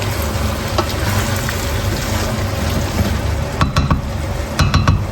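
Ground meat with green peas sizzling and frying in a pan while being stirred, a steady broad crackle with a few sharper scraping stirs near the end, close and with no talk.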